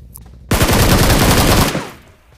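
A rapid burst of automatic gunfire in the mobile battle royale game BGMI rattles loudly for just over a second, then tails off into quiet.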